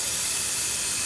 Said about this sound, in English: Just gonna spray this can onto this bag.